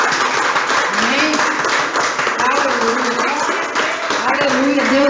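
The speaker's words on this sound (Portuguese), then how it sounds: "Aplauda ao Senhor." Church congregation applauding during an evangelical worship service, a steady wash of clapping with voices speaking and calling out over it throughout.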